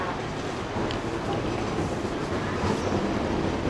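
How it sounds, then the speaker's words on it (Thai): Tourist tram running at Wat Tham Suea temple in Kanchanaburi, a steady rumbling rolling noise with a rattling wagon texture, continuous and fairly close throughout. "ครับตอนนี้กำลังรอขึ้นรถรางนะครับ"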